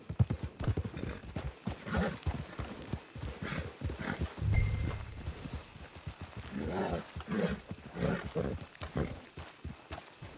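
Horse hooves clip-clop steadily along in the Red Dead video game, a continuous rhythmic trot of close, moderate hoofbeats with faint snorts and ambient outdoor sound around them.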